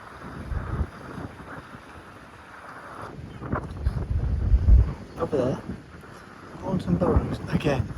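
Gusty wind buffets the microphone on a coastal footpath beside the water, rising in rough surges and dropping away, with a voice talking intermittently underneath.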